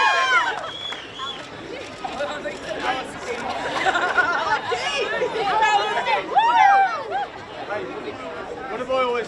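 Women's football team celebrating a grand final win, crowding together for the official photo amid excited chatter, shouts and laughter from many nearby voices.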